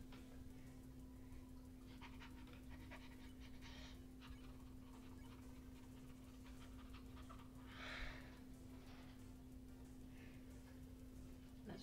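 The dog character Lesser Dog pants in the video game Undertale, a faint, quick, rhythmic breathing over a low steady hum, with a few slightly louder breaths.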